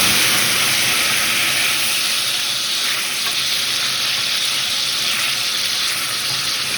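White wine hits guanciale in a hot pan while amatriciana is cooked, giving a loud, steady broadband sizzle and hiss that holds close and unbroken throughout, with no talk.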